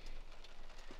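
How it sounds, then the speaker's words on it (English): Rain begins pattering on the roof of a camper van parked on a steep slope beside a cliff at night, a soft, steady patter of drops with a faint low rumble underneath and no voices. "it's starting to rain again."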